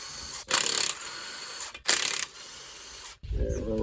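A ratchet breaks loose cylinder head bolts on a Gen 3 Hemi engine, giving two short bursts of clicking with quieter rasping between them and a low knock at the end.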